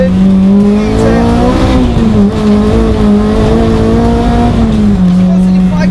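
K20-swapped Honda Integra Type R DC2 with about 230 horsepower driven hard on a track, its engine screaming loud and close at high revs with a brief dip and shift in pitch, continuous throughout.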